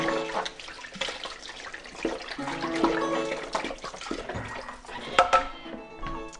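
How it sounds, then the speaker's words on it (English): A spatula from a Thermomix TM6 being rinsed under running tap water in a kitchen sink, a steady splashing stream with clatters and a couple of sharper knocks near the end. "I'm just going to wash up the spatula quickly."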